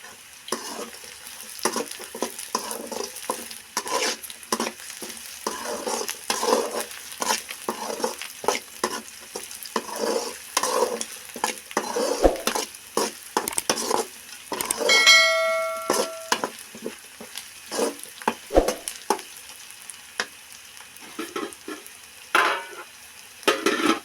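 Garlic cloves fry in hot oil for a homemade tomato chutney, giving a continuous soft sizzle with stirring scrapes and a brief metallic clink of utensils partway through.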